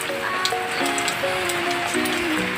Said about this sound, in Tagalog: ayan umuulan dito sa amin ngayon guys oh